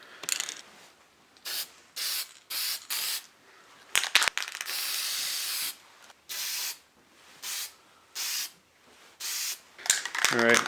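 Watco satin lacquer hisses from an aerosol can in about a dozen short, close bursts with gaps between them, plus one longer continuous spray in the middle.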